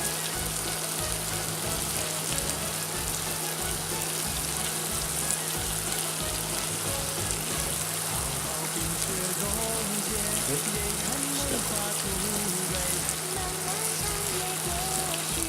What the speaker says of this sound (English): And then we'll need to add our meat into the pan.